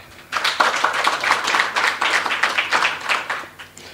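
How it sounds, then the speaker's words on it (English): Delegates at the inaugural conference of the Public Service and Commercial Union of South Africa applaud, a dense, lively patter of many hands clapping nearby for several seconds. "And a round of applause."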